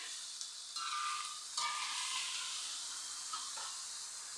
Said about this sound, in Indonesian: Jadi saya mau numis terong aja.